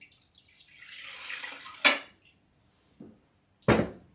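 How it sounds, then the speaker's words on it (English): Water pours into a stainless steel Instant Pot insert, a steady stream building for about two seconds, then stopping, followed by a couple of short clanks and a splash; no one speaks. "I have about 3 cups of water that I'm putting in here."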